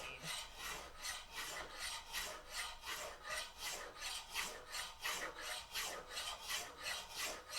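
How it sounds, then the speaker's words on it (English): Scissors are worked with a sander blade, producing quiet, regular abrasive rasping strokes in a steady back-and-forth rhythm of about two per second, with no talking. "as long as I'm using a sander blade instead of like a grinding or cutting blade"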